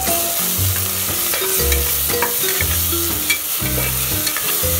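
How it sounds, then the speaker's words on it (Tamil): Onions sizzle in hot oil with ginger garlic paste for a mushroom biryani, a steady, close frying hiss with stirring scrapes, under background music throughout. "வெங்காயத்தோட கலர் சேஞ்ச் ஆகிறப்போ இஞ்சி பூண்டு நம்ம அரைச்சி வச்ச பேஸ்ட்டை வந்து ஆட் பண்ணி"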